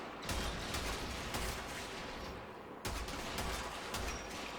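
Gorgon Wraith gun firing in Warframe during a solo tower exterminate mission: continuous rapid automatic fire as a dense, rumbling stream of shots, with a short break before the burst resumes, heard at low level with no talking.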